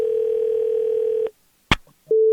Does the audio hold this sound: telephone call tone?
yes